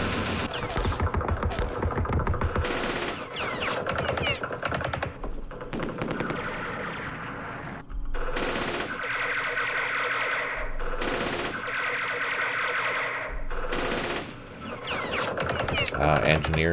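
Sustained machine-gun and rifle fire crackles through a Battle of Hue scenario in the wargame Campaign Series Vietnam, with loud bursts, sharp single shots and brief lulls across the stretch.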